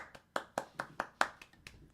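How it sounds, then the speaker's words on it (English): A single pair of hands claps about ten times in a quick, slightly uneven rhythm, close and fairly quiet, with no other sound. "Give him a round of applause."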